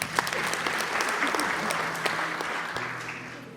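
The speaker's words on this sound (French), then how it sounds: "ça mérite des applaudissements." Steady audience applause at a World Theatre Day celebration: many hands clapping at once at a moderate distance, holding even for several seconds with no talk.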